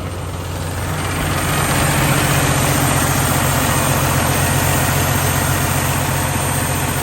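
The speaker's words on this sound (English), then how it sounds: "Never thought I'd be happy about a truck regenerating." A Cummins ISX diesel truck engine idles loudly and steadily nearby during emissions regeneration, a deep constant rumble with a broad whooshing roar on top that builds slightly then holds.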